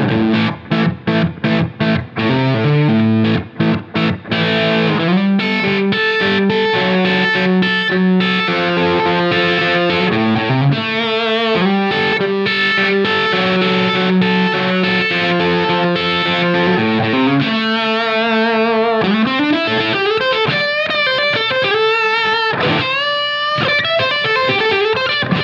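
A distorted electric guitar through a humbucker pickup, volume all the way up, plays chugging chords and then sustained bluesy bends and licks, loud and thick, with no voices.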